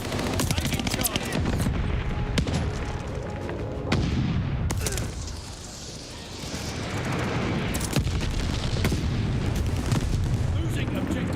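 Heavy booms and rumbling blasts from enemy glide bombs in a war video game, continuous and loud with gunfire-like bursts, under frequent in-game radio voice callouts.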